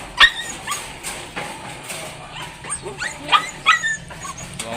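Caged pet dogs give sharp yips and short barks mixed with high whimpers, coming in a few separate bursts at close range.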